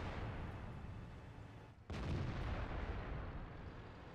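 A tank cannon fires in World of Tanks, probably an AMX 50B shooting HEAT rounds: one heavy boom near the middle, followed by a sustained rumbling roar and battle noise from start to end.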